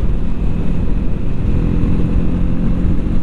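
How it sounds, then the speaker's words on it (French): Steady low exhaust drone from a Triumph Scrambler 400 XC motorcycle while riding, continuous and loud, mixed with road and wind rumble and no voices over it. "C'est purement un bruit d'échappement qu'on a."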